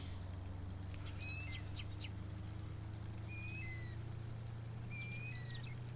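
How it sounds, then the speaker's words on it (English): Small birds chirp in short, high whistled phrases at a distance, scattered over a constant low droning hum, in Farming Simulator 19 on a tropical map. "Birds are kind of loud."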